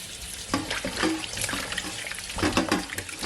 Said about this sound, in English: Then I'm gonna run some cold water over it.